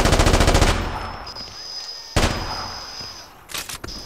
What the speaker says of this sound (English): Oh, I'll shoot at the window.